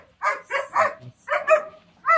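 An unfamiliar dog during training barks in a quick series of sharp, close barks, five or six in about two seconds, with short gaps between them and no talk over them.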